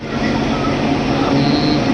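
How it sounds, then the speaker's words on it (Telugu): Tirupati–Hubli Express pulling into platform 3 at a station, a steady loud rumble with a low hum and faint squeal continuing throughout without a break. "ప్లాట్ఫామ్ 3లోకి ఇంకొక ట్రైన్ అయితే వచ్చేసింది"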